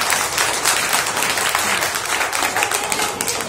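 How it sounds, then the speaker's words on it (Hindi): An audience of children and teachers claps loudly in welcome, a dense continuous burst of applause heard close and evenly throughout. "फिर से एक बार जोरदार ताली से स्वागत"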